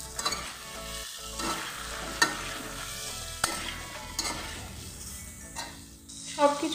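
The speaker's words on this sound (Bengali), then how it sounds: "আর দেবো সাথে নুন, হলুদ, লঙ্কার গুঁড়ো আর জিরের গুঁড়ো দিয়ে সবগুলোকে ভালো করে মিক্স করে দেবো।" Spoon stirring salt, turmeric, chilli powder and cumin powder into a Mourola fish curry in a hot pan, with a steady scraping, frying sizzle and a few sharper knocks against the pan close up.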